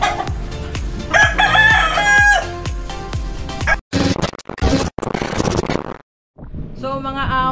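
Roosters kept on a rooftop crow loudly and repeatedly, their long cock-a-doodle-doo calls close by, with some clucking and a brief gap of near silence between bursts.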